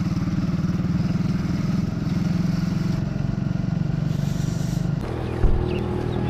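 A motorcycle cruising on a highway, its engine humming steadily with a low rhythmic throb and wind noise, close and loud, easing off near the end with a brief clunk.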